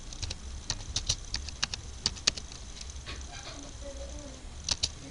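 Fingers tap steadily on a computer keyboard while entering router settings, producing a rapid, fairly close patter of light key clicks with a few sharper strikes and brief pauses.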